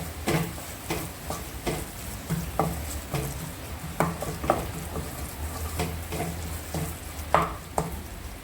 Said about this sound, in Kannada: ಒಂದು 2 ಮಿನಿಟ್ಸ್ ಫ್ರೈ ಮಾಡ್ಕೋಬೇಕು